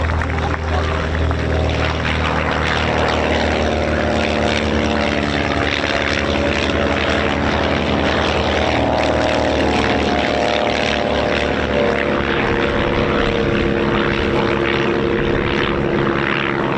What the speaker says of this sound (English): I think it's a really neat and interesting new aircraft on the display circuit